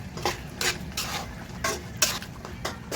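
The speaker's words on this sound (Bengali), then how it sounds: "এদিকে সিমটা একটু নেড়ে দিলাম" A spoon scrapes and knocks against a cooking pot while beans are stirred, several soft metallic clinks and scrapes repeating at an uneven, unhurried pace, fairly quiet and close.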